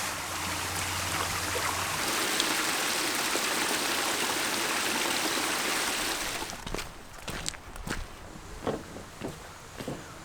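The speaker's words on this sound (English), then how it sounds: "Just a little one, nice pretty stream that's going off into the Brecons." A small, pretty stream flows near a little waterfall in the Brecon Beacons, its steady broadband rush filling the first six seconds before easing into fainter trickling broken by light footsteps or knocks.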